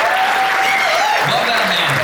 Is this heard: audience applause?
yes